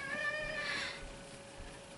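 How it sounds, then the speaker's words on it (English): A pet cat gives a single faint, drawn-out meow, soft and fairly distant over a quiet indoor background with a steady low hum. "Barney, that's my cat, Barney."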